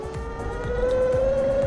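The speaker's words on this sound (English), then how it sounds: "That's the sound of the tires just spinning out." Electric scooter with small high-torque Rion motors, its tires chirping and squealing as they spin out under acceleration, a rising whine over a steady rumble, close and continuous with no talk.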